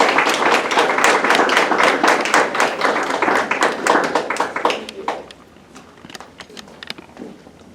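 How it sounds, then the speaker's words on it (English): A warm round of applause for a guest speaker at a university speaker series, dense clapping that fades after about five seconds into scattered claps. "Please join me in a warm round of applause for Dr."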